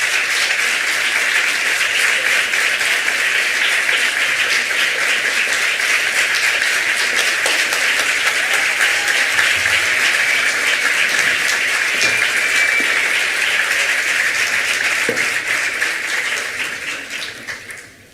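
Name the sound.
audience applause at an astrology congress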